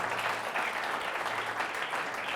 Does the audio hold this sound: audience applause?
yes